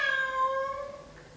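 A single drawn-out meow imitated by a human voice, tonal and fairly soft, falling off at the end.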